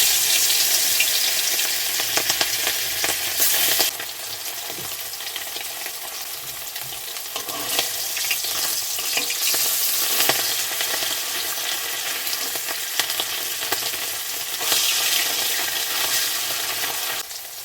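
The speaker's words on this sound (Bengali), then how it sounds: "মাছ আমাদের লাল লাল করে ভাজা হয়ে গেছে" Hilsa fish frying in hot mustard oil in a kadai, a steady loud sizzle and crackle throughout with occasional stirring and spatter bursts, no talking.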